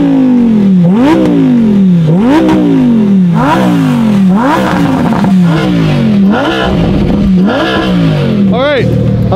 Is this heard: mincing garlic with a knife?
no